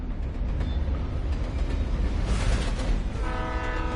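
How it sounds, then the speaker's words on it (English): A train rumbles past on a bridge in the Alan Wake Remastered video game, a loud steady roar of rolling wheels with a horn sounding near the end. "And there is a train."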